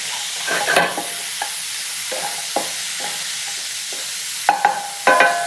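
Diced pancetta browns in a pan with a steady, broadband sizzle, rendering its fat before spinach and onions join it, while sharp scraping stirs and clinks punctuate the frying at irregular moments, loudest near the end.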